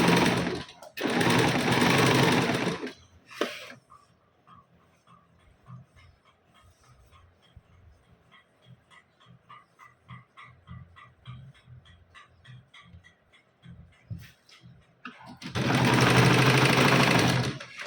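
A sewing machine runs a topstitch along a Paithani saree long dress with a lining, giving a steady, rapid stitching run of about ten seconds, framed by loud bursts of fabric handling at the start and end.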